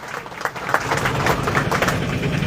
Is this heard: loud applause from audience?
yes